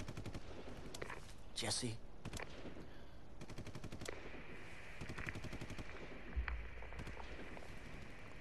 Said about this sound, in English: Are they shooting everyone right now?